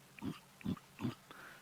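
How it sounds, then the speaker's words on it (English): Three deep, throaty grunts from a warthog, heard on an African wildlife drive, evenly spaced and fairly close, followed by a fainter fourth sound in quiet surroundings. "They can make that sort of grunting"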